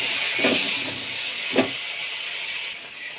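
Prawns frying in a pan with mustard seeds and oil for a Bengali prawn malai curry, giving a steady close hiss and sizzle with a couple of brief louder spatters.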